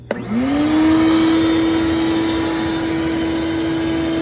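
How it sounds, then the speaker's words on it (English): A shop vacuum starts up with a sharp click and quickly rises to a loud, steady whine that drones on without pause. "So I'm going to turn on the vacuum."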